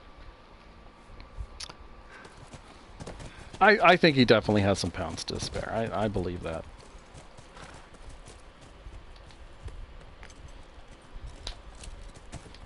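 Horse hooves clip-clop in The Last of Us, a quick run of close rhythmic hoofbeats in the middle of the clip, with someone talking before and after.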